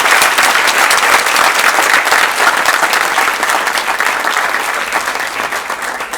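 Sustained applause from the audience at an African book prize award ceremony, a steady dense clapping that stays loud and close throughout with a slight easing toward the end.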